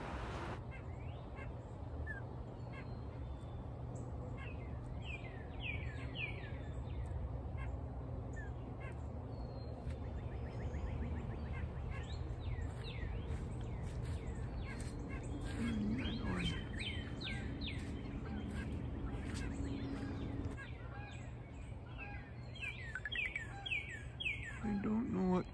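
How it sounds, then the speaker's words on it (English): Wild birds call during a morning hike in London, Ontario, a busy overlapping mix of caws, chirps and trilling song over steady outdoor background noise throughout. "I don't know what kind of birds these are, but they're beautiful."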